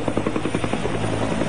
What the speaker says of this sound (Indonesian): Dan Anda bisa saksikan bersama-sama proses penurunan mereka dari helikopter.